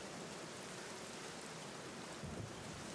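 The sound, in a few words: rain in a video game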